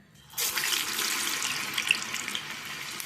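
Urad dal vada batter dropped into hot oil and frying, a sudden rise into a steady, close, bright bubbling sizzle that holds without talk for about three seconds.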